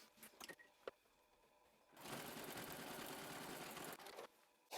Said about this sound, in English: I can now top stitch around this raw edge, back stitching here at this opening here